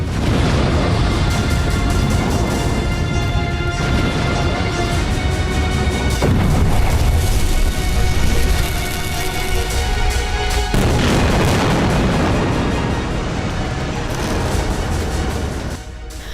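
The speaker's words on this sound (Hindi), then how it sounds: "इजराइल ने दागे गोले।" Israeli shells explode in Gaza as a dense, loud wall of booms and crashing blasts that continues without a break, with overlapping rumbles that shift in texture, and no talk.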